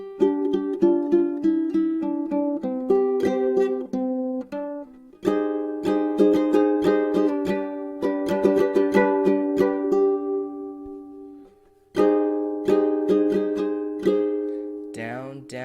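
A ukulele strums the verse of One Piece's opening in a steady down-up pattern, bright chords ringing with brief pauses between phrases, played solo and up close.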